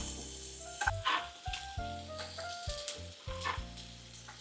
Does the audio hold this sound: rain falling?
no